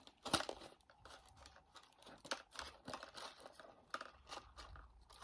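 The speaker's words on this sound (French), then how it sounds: "Faut que tu tires le ruban" Ribbon is pulled off an advent-calendar gift box, giving close crinkling and tearing rustles with a sharp crackle near the start, then softer scattered handling sounds, with no voices.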